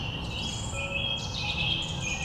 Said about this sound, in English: Lots of singing birds